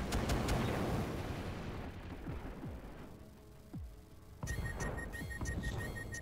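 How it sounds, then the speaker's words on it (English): Several deep booming explosions with sharp attacks roll out one after another in the video game BattleTech, followed by a hum and a brighter electronic tone. "Oh, I heard explosions."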